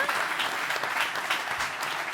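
Audience applause at a sports respect forum welcoming a handball team captain, a short burst of warm, dense clapping from a crowd, steady and fairly close.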